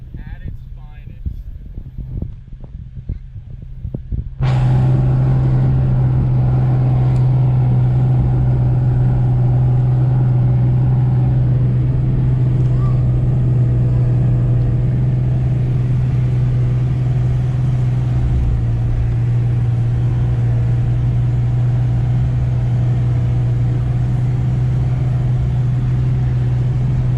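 Off-road truck with open differentials pushing through more than 14 inches of snow and 3-foot drifts. After a few quiet seconds with muffled voices, a loud, steady engine drone starts abruptly and holds.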